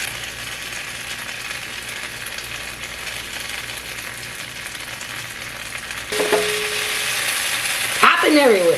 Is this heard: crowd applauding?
no